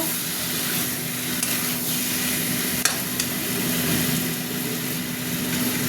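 Curry frying in a pan with water just added, giving a steady loud sizzle with light stirring scrapes throughout and no talking.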